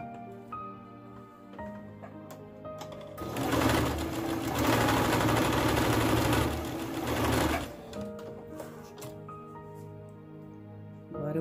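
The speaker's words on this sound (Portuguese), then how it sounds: "Vou costurar aqui também." Sewing machine stitching orlon baby fabric, one continuous loud burst of rapid motor-driven needle chatter lasting a few seconds, framed by quieter handling and fabric rustle before and after.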